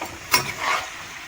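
Food stirred and frying in a pan in a home kitchen: a sharp utensil scrape against the pan, then a soft, steady sizzle, close and brief with no talking.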